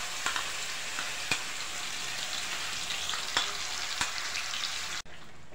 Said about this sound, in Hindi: ये देखिए लहसुन अदरक का मैंने पेस्ट जो बनाया था उसको पहले डालेंगे इसमें, तेल गर्म हो गया है